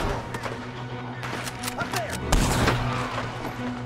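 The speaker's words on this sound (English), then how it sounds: "I guess I need to shoot them." Gunfire in the Red Dead Redemption 2 video game, a rapid scatter of sharp shots and thumps with a heavier boom near the middle, under a steady game background as someone talks.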